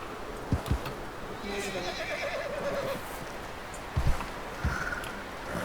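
A horse in the video game Red Dead Redemption whinnies in a drawn-out, wavering call over a soft ambient bed, with a few dull thumps and hoof-like knocks around it.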